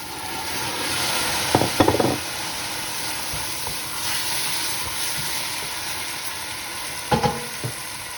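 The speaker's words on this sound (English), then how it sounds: "we're adding the chopped tomatoes" Chopped tomatoes sizzle in a pan with king prawns, a steady soft frying hiss broken by a few clattering stirs early and again near the end, with no voices.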